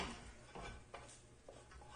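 Cooked ham fried rice scraped and shifted from a frying pan into another pan on the stove, a few soft metallic clanks and scrapes in quick bursts, fairly faint and close.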